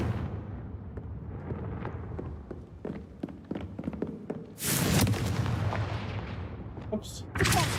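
A Confringo blasting spell goes off in the Hogwarts Legacy video game: after a stretch of soft footsteps and clicks, a loud broadband blast erupts and roars on, followed by a second sharp burst near the end.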